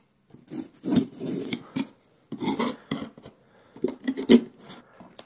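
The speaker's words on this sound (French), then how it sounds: "On va prendre un petit couteau et on va déballer ça." Scraping, slicing bursts of a knife cutting through a cardboard package and tape, in several short irregular strokes separated by pauses, close up, no talking.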